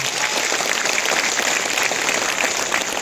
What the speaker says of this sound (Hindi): समस्ते से नेता नवीन पट्टनायक को धन्यवाद जणा कृतज्ञता जणा गोटे जोरदार करताली देगी